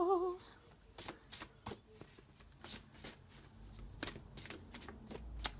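Cards shuffled by hand during a tarot-style reading, a series of quick, crisp riffles and slaps in irregular bursts, fairly close and soft, with a brief voice heard at the start.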